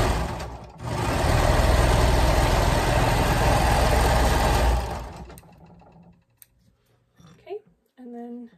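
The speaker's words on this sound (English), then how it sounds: "A regular sewing machine" A regular domestic sewing machine runs steadily for about four seconds, stitching a lounge gown strap, then slows and stops. Quiet handling noises and a few brief voiced sounds follow.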